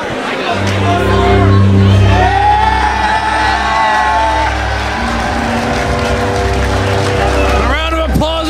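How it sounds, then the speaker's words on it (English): A wrestling arena crowd cheers, whoops and shouts loudly as a wrestler walks to the ring, a continuous roar with piercing yells rising above it and an announcer speaking over the noise. "A round of applause and ovation for the Invisible Man making his way to the ring."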